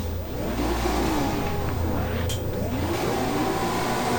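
Engines of 1994 Asia-Pacific touring cars, including a Toyota Corona, rev loudly together at the race start in GTR2, a dense droning roar that rises and falls with no talk.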